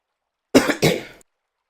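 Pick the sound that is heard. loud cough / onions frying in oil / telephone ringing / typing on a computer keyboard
loud cough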